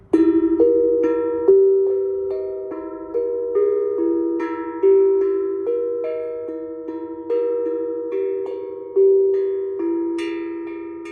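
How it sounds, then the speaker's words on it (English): Metallic tones ring out as a chakra handpan is tapped in a slow, steady melody, each note blooming and decaying, close and resonant with no talking. "So I got this chakra handpan the other day"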